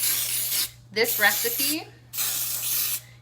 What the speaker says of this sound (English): you can use spray to kind of spray your muffin tin here